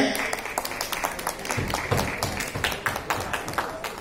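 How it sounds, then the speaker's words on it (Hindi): Audience applause at a public gathering, a broad patter of many hands clapping steadily for about four seconds, with a busy murmur of voices underneath. "एक बार मैं चाहूंगा कि जोरदार ताली जरूर बजाएं।"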